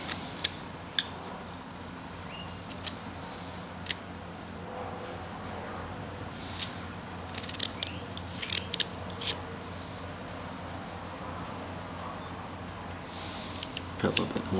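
A knife whittling a block of wood into a carved figure, giving scattered short scraping and snicking cuts in irregular bursts, close and fairly crisp, with a voice talking between strokes.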